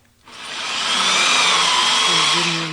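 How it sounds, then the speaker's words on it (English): Power drill boring through a liner, a steady high whine that starts abruptly and holds loud and close for nearly three seconds, with faint background music underneath. "now I'm gonna drill through the I liner"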